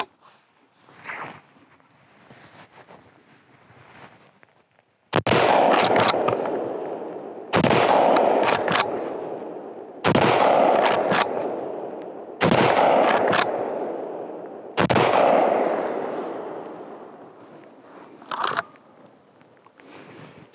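Rapid rounds fired from a Beretta BRX1 straight-pull rifle outdoors: five loud, booming shots spaced about two and a half seconds apart, each with a long decaying tail, with faint handling clicks between.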